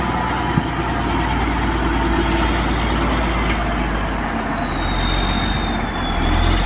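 A bulldozer, restarted after seven years out of use, idles with a steady low diesel rumble close by, a thin whine running above the throb throughout.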